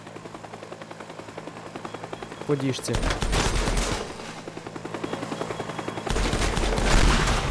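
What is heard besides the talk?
helicopter attacking in video game Teardown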